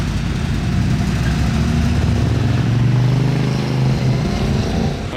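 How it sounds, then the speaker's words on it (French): A Mercedes G-Class fitted with an Akrapovic exhaust gives off a loud, close, deep engine rumble that holds steady throughout, with a slight swell in the middle. "Il y a un échappement Akrapovic ce classe G"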